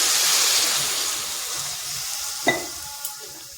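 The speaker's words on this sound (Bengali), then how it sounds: "এরপর এখানে দিয়ে দিচ্ছি 2 বাটি জল।" Water added to fried potatoes in a hot pan for aloo posto sets off a loud hissing sizzle that gradually softens, with a couple of brief clinks near the end.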